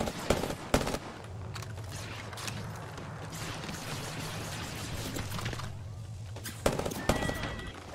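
Apex Legends gunfire: sharp bursts of shots near the start and again near the end, with steady mechanical game ambience between, no talking.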